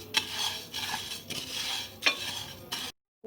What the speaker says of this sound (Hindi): मसलसल चमचा हिलाना है आपने।